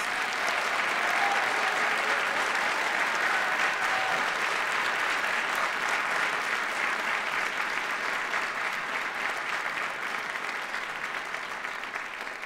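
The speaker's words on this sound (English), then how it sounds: "please give all of today's awardees a big round of applause" A large audience at a leadership awards ceremony applauds the day's awardees, with sustained, dense clapping that holds steady for the full stretch and tapers only slightly at the end.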